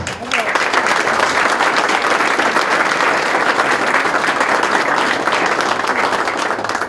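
An audience claps loudly and steadily throughout at the Laur Myśliborski 2011 award ceremony, dense applause filling the hall while a voice speaks faintly underneath.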